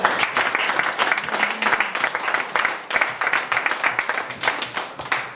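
A church congregation claps and applauds loudly and steadily for several seconds, the dense crowd applause close and continuous.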